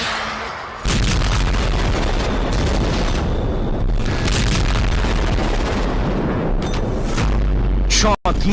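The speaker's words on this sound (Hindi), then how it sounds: "रूस ने यूक्रेन पर एक ही रात 34 मिसाइलों से हमला कर दिया।" Explosions from a Russian missile attack on Ukraine, heard as heavy, rumbling booms and blasts with deep low-end roar, loud and dense over most of the stretch, with a sharp cut near the end; a voice may be faintly present.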